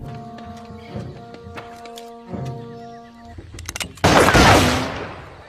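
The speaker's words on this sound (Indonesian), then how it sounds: "Dan bahkan melakukan tembakan peringatan." Warning shots ring out in a tense drama scene, with sharp cracks over a tonal musical backdrop and then a loud, rough burst near the end.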